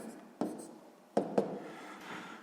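A pen writing out sixth-grade maths calculations on paper, a few short scratchy strokes and taps spaced apart over a quiet room background, close and soft.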